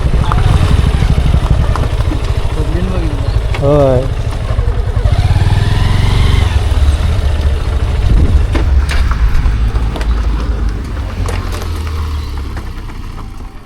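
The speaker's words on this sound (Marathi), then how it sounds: "सर्व बाईकच बाईक." Many motorbikes pass close by on a crowded road, their engines rising and falling in revving sweeps over a steady rumble while people talk nearby.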